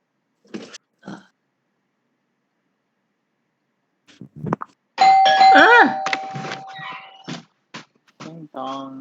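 A doorbell chimes with a sustained ringing tone amid voices and short bursts of talk, close and fairly loud after a quiet stretch.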